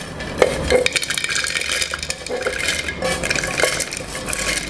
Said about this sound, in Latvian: Tagad mēs visu to sabaram blenderī.